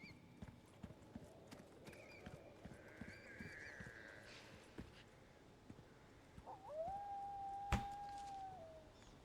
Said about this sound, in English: If you listen closely, you can hear the wolf howl.